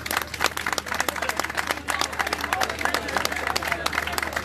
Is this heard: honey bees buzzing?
no